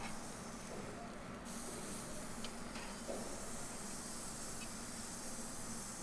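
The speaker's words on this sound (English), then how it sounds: "I've preheated the Weber Q for about 10 or 12 minutes, and I'm going to grill this burger" A jalapeño popper stuffed burger sizzles on a Weber Q gas grill preheated for 10 to 12 minutes, giving a steady, close hiss with no break and no talking.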